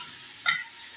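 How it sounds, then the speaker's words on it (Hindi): Ingredients for biryani pulao fry in a pan with a thin, hissing sizzle, broken by one brief clink of a stirring spoon midway through the short moment. "तकरीबन 5 मिनट के लिए इसको अच्छी तरह फ्राई करूँगी"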